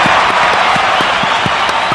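Canned applause effect triggered from a soundboard button, a dense burst of many hands clapping steadily and loudly for two seconds, with no talking over it.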